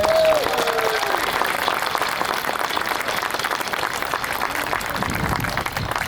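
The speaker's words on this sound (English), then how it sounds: "If we could give a big round of applause for those dancers" An outdoor crowd applauds dancers at the opening of a civic center, a sustained wash of clapping from many hands, steady and fairly loud throughout, with a brief tonal sound at the start.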